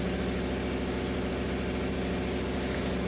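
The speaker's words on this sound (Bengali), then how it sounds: "ঘরের ভিতরে জেনারেটরের আওয়াজ আর বাইরে ঝড়ের আওয়াজ" A generator runs inside a house during a storm, giving a constant low mechanical drone with a steady throb, loud and unbroken, with nothing else standing out.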